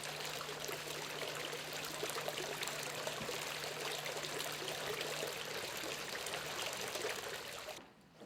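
Fountains in the Generalife gardens of the Alhambra in Granada, Spain, pour and trickle in a steady, continuous wash of water, fairly close and even in level, fading at the very end.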